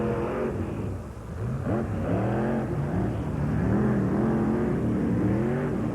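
A Ford drag racing truck runs a heads-up race at NMRA Pomona in 1991, its engine droning loud and steady with repeated rising and falling pitch sweeps.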